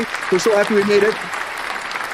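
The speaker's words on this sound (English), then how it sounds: "round of applause for the end of the week, everybody" A studio audience applauds for an end-of-week celebration, a steady broadband patter of clapping running beneath a host's speaking voice for the whole stretch.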